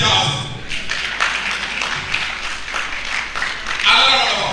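Audience clapping at a commemorative lecture, a dense irregular patter of hands heard at moderate distance, running steadily for several seconds with a voice speaking over it at the start and end.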